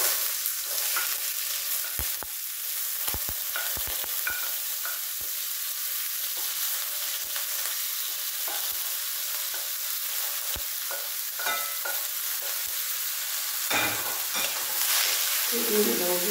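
Onion and leek frying in a pan while being stirred, a steady close sizzle broken by scattered scraping and clicking strokes of the spoon, with a brief louder stir near the end.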